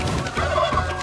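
Geese in the game Roadwarden honk and gobble in a noisy, close cluster of overlapping calls that fills the short moment.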